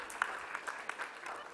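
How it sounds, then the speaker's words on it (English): Applause from a conference audience for a speaker at a real-estate finance conclave, a quiet, fairly distant wash of clapping with a few sharper claps standing out, sustained for the full moment. "Can we have a big round of applause for Mr."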